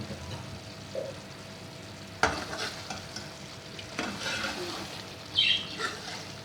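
Mutton dahi curry frying in oil, a soft low sizzle with a few louder stirring scrapes and clinks, close and alone.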